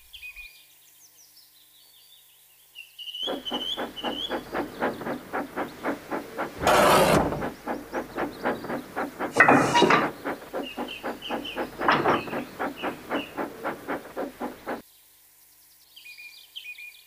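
A Trainz-simulated steam engine shunting goods trucks chuffs steadily in a rhythmic beat, with clanking bursts as trucks bump together and birds chirping faintly in the background.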